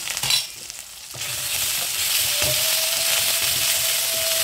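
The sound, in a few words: sautéing spices with fried snakehead fish in pan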